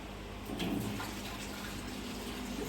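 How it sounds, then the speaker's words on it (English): Water being tipped off the top of a bucket of very wet clay slurry during clay reclaiming: a faint, close, continuous pouring trickle with a slight swell partway through. "So I'm just going to drain a bit of water off the top."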